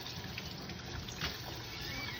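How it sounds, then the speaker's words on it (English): Tap water runs steadily in a veterinary surgical prep area ahead of a hand scrub, giving a soft, continuous hiss and trickle that is fairly faint. "I'm going to go ahead and start running my water."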